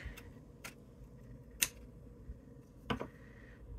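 Scissors trimming the edge of a cardboard box, with a few quiet separate snips and clicks spaced about a second apart against a faint background.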